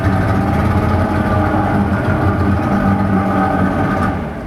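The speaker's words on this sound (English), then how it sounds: "nice running motor, fire it back up" A 1994 Evinrude 120 outboard motor runs close and loud, a steady low rumbling drone with a throbbing pulse, tapering slightly at the very end, with no one speaking.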